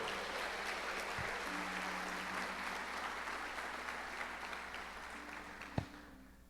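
A church congregation applauding in a steady, sustained wash of clapping that fills the room at moderate level, fading toward the end, with a couple of sharp thumps and no clear talk.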